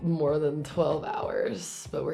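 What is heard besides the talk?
No distinct noise like a dog, phone or traffic.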